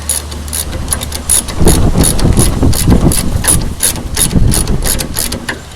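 A hand ratchet clicks rapidly and loudly up close while a steering or suspension component on a vehicle is tightened, the sharp pawl ticks running in steady strokes without talk.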